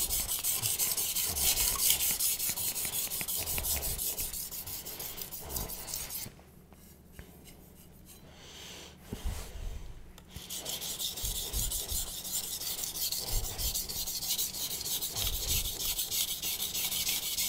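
A knife blade rubbing back and forth on a CBN whetstone with metal slurry, a continuous gritty rasping that pauses briefly midway and then resumes, close and fairly loud.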